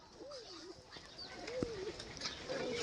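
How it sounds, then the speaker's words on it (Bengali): A female golden pigeon coos softly three times, warbling rising-and-falling calls spaced apart against a quiet background with faint clicks. "তো এটা মাদা পায়রা ওই জোড়ারই"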